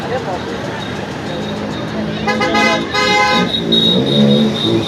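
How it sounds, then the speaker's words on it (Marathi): Busy street traffic at Jaripatka market in Nagpur, with car engines rumbling and a loud car horn honking near the middle, followed by more tooting, all over a steady murmur of crowd voices. "सब इधर ट्रैफिक ही ट्रैफिक है"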